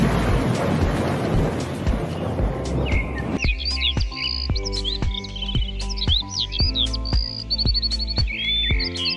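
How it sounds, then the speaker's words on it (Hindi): A village thunderstorm with heavy rain and thunder opens as a loud, dense roar for about three seconds. It then gives way to bird chirps and steady tonal sounds. "गांव में तेज वर्षा होती है और गर्जना बिजली भी बहुत होती है"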